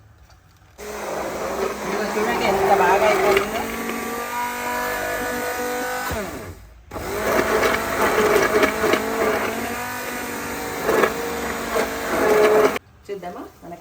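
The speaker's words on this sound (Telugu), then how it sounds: "పాలకూర మంచిగా దీన్ని బ్లెండ్ చేసేసుకుందాం అండి హ్యాండ్ బ్లెండర్తో" A hand blender purees spinach and tomatoes for palak paneer, its steady motor whine running loud and close nearly throughout, briefly cutting out midway before starting again, with a person talking over it.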